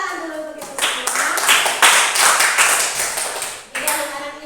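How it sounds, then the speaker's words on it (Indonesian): Schoolchildren clap their hands in a classroom, a loud burst of many hands that swells and then stops abruptly, with a voice speaking before and after. "Oke, kita tepuk tangan dulu untuk itu semua."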